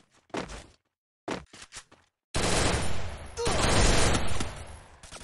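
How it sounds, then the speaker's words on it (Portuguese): Heavy bursts of gunfire from a ranked online shooter match ring out loudly, an automatic volley filling the last few seconds after short earlier bursts. "Um tiro."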